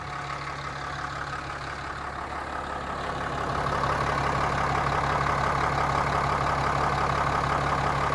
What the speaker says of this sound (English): especially driving roads like this with the truck